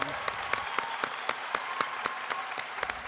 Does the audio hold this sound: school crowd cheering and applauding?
yes